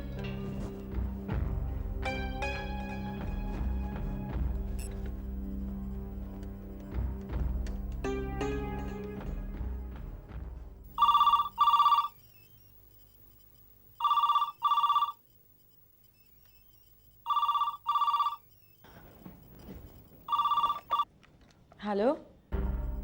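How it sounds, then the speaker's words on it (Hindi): Ringback tone on an outgoing phone call, in five repeated double-pulse bursts separated by short silences, after a stretch of dramatic background music. "फोन लगा कर देखती हूँ।"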